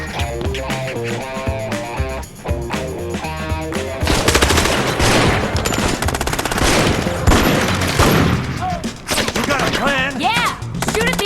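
Rapid automatic gunfire in the mobile game Gangstar Vegas 4 plays as dense, loud bursts, first over tonal game audio, then as a near-continuous volley of shots for several seconds.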